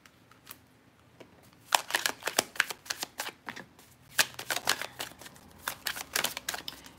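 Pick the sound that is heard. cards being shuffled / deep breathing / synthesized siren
cards being shuffled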